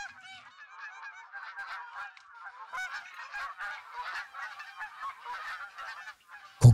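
Geese honking in the hunting game theHunter: Call of the Wild, a dense flock of overlapping nasal honks calling continuously for several seconds at moderate distance, with no talk, ending in a sudden low thump.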